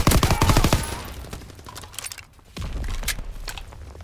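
Dense automatic gunfire in the World War II shooter Call of Duty WW2, a loud close burst that tails off into quieter scattered shots before picking up again in the distance.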